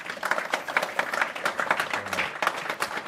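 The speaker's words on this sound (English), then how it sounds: "Give a round of applause if you would like." A football club fans' forum audience applauding the panel, a dense, even patter of many hands clapping continuously at moderate loudness in an indoor room.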